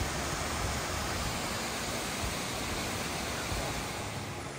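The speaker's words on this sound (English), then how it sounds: "beautiful waterfall." Waterfall along a hiking trail near Agnes Lake in the Rockies, a steady, dense rush of falling water that holds at an even level throughout without a break, with no talk over it.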